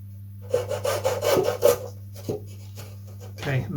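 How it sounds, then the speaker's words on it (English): Rough rhythmic sawing through wooden stringers on a model aircraft, several quick back-and-forth strokes up close, then a pause and a few lighter rasping strokes. "I'm just going to trim these stringers to length."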